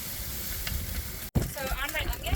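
Onions fry with a steady sizzle crackling in a pan, briefly cut off then resuming with faint voices and utensil sounds over the hiss.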